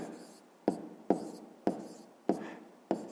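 A pen writing out a math answer by hand on paper, heard as five short scratchy strokes at irregular intervals, each a quick crisp onset fading out, close and quiet with no talking.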